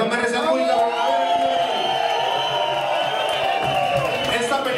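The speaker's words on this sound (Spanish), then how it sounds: "Yo quiero que hagan un ruido y un aplauso, pero para ustedes" Concert crowd at a live show cheering and whooping with scattered applause, a continuous roar of voices that holds steady throughout.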